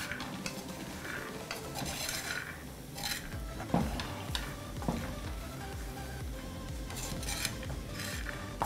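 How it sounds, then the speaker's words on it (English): Groundnuts being dry-roasted in a pan and stirred constantly, giving a busy rattling, scraping patter of nuts and utensil against metal with a few sharper knocks, no talk. "Keep spreading and stirring."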